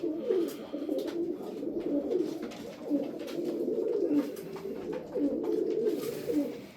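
White pigeons for sale cooing, a steady overlapping stream of soft, throaty coos from several birds nearby, with no talk.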